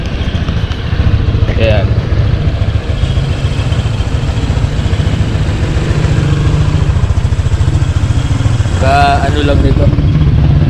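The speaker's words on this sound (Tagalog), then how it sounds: "So ito pala yung dala ko, Honda Click." A Honda Click scooter with freshly changed oil runs steadily and loudly close by, its engine drone continuous throughout while someone speaks briefly over it.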